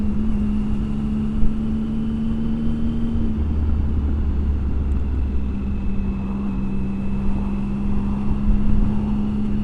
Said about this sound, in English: With this, you've got that sort of deep exhaust note.